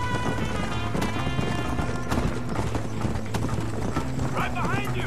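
Horse hooves gallop at a fast, steady clip-clop in the PS3 game Red Dead Redemption during a horse race, with a neigh and voices talking over the running hoofbeats.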